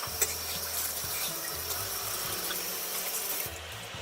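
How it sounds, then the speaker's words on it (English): Tap water runs steadily into a sink while grilled eggplant, oven-roasted to loosen its skin, is washed, a constant close splashing flow with no talk. "right now I'm going to wash eggplant after I grill inside the oven for easy to peel out the skin"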